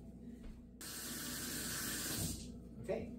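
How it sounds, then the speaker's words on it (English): Hot water runs from a kitchen tap at home while pizza dough is being prepared, a steady, faint hissing stream that continues for a few seconds before tapering off. "what I usually do is let the tap run as hot as I can get it"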